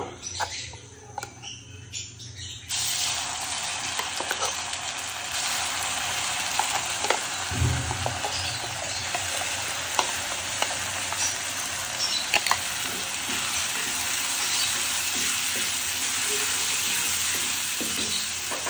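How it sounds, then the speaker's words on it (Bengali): A blended paste of chepa shutki, fermented dried fish, goes into hot oil. The hiss jumps sharply as it lands, then holds a loud, continuous frying sizzle with small crackles to the end. "তেলটা কিছুটা গরম হয়ে আসলে এখন এখানে আমি এই ব্লেন্ডার করে রাখা জিনিসগুলো দিয়ে দিব।"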